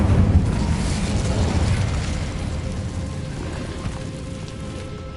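Incendio fire spell cast in Hogwarts Legacy, a loud whooshing burst of flame that roars at the start and then trails off into a sustained rumbling crackle, with no talk.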